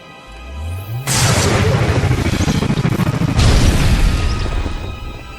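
Loud explosions tear through anti-missile turrets in the sci-fi game SWTOR, opening with a rising low rumble, then a sustained roaring blast with crackling debris that swells again midway before fading.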